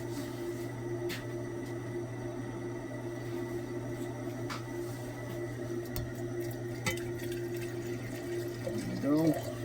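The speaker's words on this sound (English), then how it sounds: "So let's put some hot water to it real quick." Hot water is poured over refined gold in an acid rinse during scrap refining to fine bullion, a steady watery pour and trickle over a constant low electrical hum.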